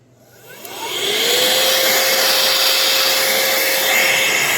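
An air blower clears dust off a metal wrestling belt plate. Its loud whooshing roar spins up over the first second, then holds steady and close with a faint tonal whine, and no voices are heard.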